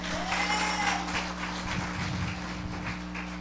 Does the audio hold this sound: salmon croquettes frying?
no